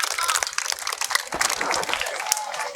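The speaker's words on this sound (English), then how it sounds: "Clap for yourselves." High school students at Basorun-Ojoo High School in Ibadan clap together during a tree-planting event, a brief, fairly quiet burst of scattered crowd applause with some murmuring underneath.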